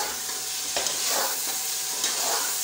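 Whole garam masala and two bay leaves roast lightly in a pan for a mutton mandi dish, with a steady close sizzle and soft stirring scrapes throughout.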